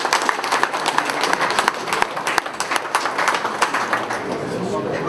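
Applause from an audience in a council meeting chamber, a dense wash of clapping that holds steady and close throughout, with a voice speaking over it.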